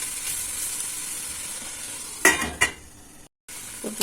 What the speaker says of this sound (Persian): من این ماهیچه رو پشت رو میکنم درون قابلمه و میگذارم هر دو طرفش تفت بخوره